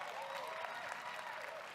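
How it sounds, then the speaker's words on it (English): Town hall audience clapping and cheering in a steady, dense wash of applause that holds for the whole moment, with crowd voices mixed in. "I'm not sure if they were cheering the drinks or the marijuana there."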